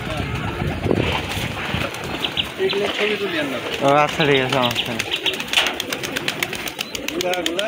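Pigeons in Rajshahi coo in soft, rolling bursts close by, while people talk over them throughout.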